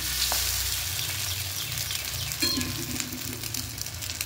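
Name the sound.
bread slices frying in a little oil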